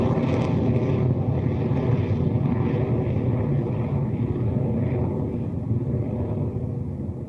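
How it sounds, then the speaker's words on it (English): Rocket Lab Electron rocket lifting off on the 'The Mountain God Guards' launch carrying a SAR satellite, a steady, dense, loud broadband roar with deep rumble that holds constant throughout and fades only slightly at the end. "We got a liftoff. Beginning pitch off. The Mountain God Guards is in the air."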